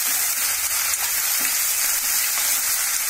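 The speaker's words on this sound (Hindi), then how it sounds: "फिर इसको एक से डेढ़ मिनट ऐसे ही फ्राई करना है हल्का हल्का।" Tomatoes frying in a pan for a masala creamy chicken dish give a steady, soft sizzle with a faint crackle, close and continuous, with no talk over it.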